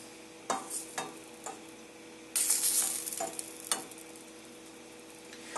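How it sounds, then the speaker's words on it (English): Two tablespoons of butter melting in a frying pan, a faint low sizzle with a few soft clicks, then a sudden brighter hiss swelling for about a second before settling back, quiet and close with no voices. "I'm going to take 2 tablespoons of butter, put them in the pan, and get this nice and prepared"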